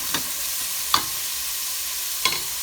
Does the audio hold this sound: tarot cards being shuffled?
no